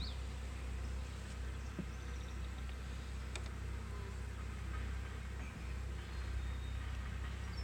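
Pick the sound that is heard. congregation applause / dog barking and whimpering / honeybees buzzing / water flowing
honeybees buzzing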